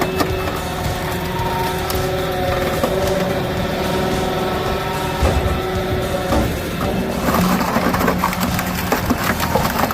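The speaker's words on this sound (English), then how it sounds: "It turns rough logs into clean pieces so smoothly that the work almost looks automatic" Homemade tractor-driven firewood processor working through rough logs, a steady mechanical drone of engine and machinery with woody cracking and splitting noises layered on top, continuous and fairly loud throughout.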